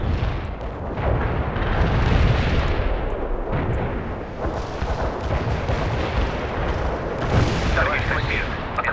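An artillery barrage in the real-time strategy game World in Conflict: dense, continuous rumbling booms and blasts layered over one another, loud and sustained with no gaps.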